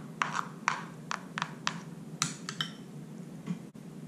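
A spoon stirs homemade guacamole with avocado and tomato in a bowl, giving a handful of faint, separate taps and clinks against the bowl over a quiet background.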